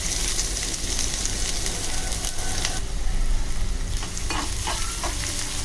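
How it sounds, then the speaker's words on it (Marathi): Onion, garlic and cumin sautéing in a pan for a moringa flower dish, a steady loud sizzle with occasional stirring scrapes and crackles, close up and continuous with no voices. "छान लालसर होईपर्यंत आपल्याला परतून घेऊया"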